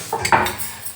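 Metal utensils clink and scrape against a pan as fried gujiya are lifted out, a few quick close clatters in a short burst, with no talk.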